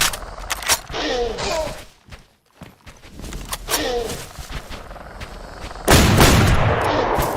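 An auto-loading shotgun fires in DayZ: several loud, close shots with echoing tails, spaced a second or more apart, then a final heavy blast near the end, with a quiet gap in the middle.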